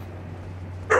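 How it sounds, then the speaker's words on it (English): A single sharp dog bark from a hostile hound in Elden Ring: Shadow of the Erdtree, loud and sudden at the very end after a near-silent stretch. "Oh my god, these dogs."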